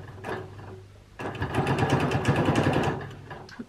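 A sewing machine runs a short burst of stitches to lock the thread in a quilt sandwich, starting with a brief whir, then a fast, even mechanical chatter that lasts about two seconds, close up and with no talk.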